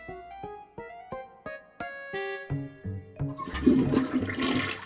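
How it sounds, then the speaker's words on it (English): Toilet flush in the Day of the Tentacle Remastered adventure game, opening with a rising run of plucked musical notes before a loud, rushing swirl of water builds and continues to the end. "You really flushed them. Yes! Down the toilet."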